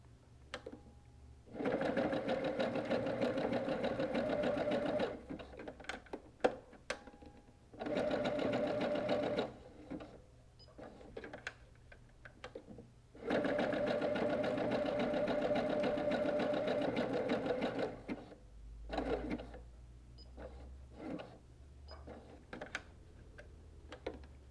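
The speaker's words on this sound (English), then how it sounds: "I'm going to start sewing. Leaving my needle down as I turn." A sewing machine stitches a quilted snowball name tag in several bursts of rapid, even needle chatter, separated by short pauses as the fabric is turned with the needle down, heard close and clear without speech.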